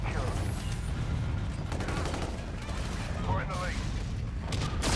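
Suppressed fire from an X-EON assault rifle in a video game, a busy stream of muffled rapid shots mixed with other game sounds, moderately loud, with voices talking over it.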